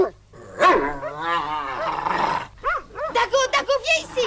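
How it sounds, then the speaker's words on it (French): Several aggressive dogs bark and growl in a snowy winter setting, loud and close, with bursts of barking in the second half while a person shouts over them. "Allez-vous-en, sale chien, allez-vous-en!"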